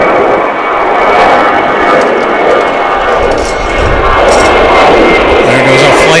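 A jet airliner bound for Spokane, Washington takes off from a busy international airport, a loud continuous engine roar with a broad rumbling wash that holds steady throughout, close and dominant.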